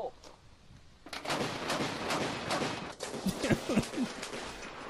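Fully automatic gunfire from a machine gun fired toward a far riverbank, heard as a sustained, dense burst of loud reports after a brief quiet start, with sharper distinct shots near the end.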